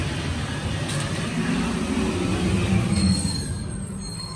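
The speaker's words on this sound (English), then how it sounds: "that's the garbage truck" A garbage truck passes outside a Miami ranch-style house with a steady, loud rumble and occasional high squeals throughout, with no voices.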